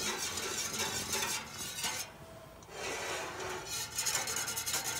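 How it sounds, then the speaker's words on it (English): Oxalic acid being stirred into warm glycerin for a honey bee treatment, heard as close, steady scraping and rubbing of a utensil in a container in rhythmic bursts with a brief lull midway. "Just mix it up until the oxalic acid dissolves into the glycerin and it's clear again."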